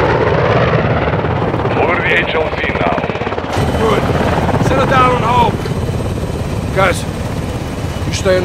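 A military helicopter in the Call of Duty Modern Warfare 2 game roars steadily throughout, a dense low rotor-and-engine drone under scattered radio chatter and combat voices, with brief sharper effects overhead.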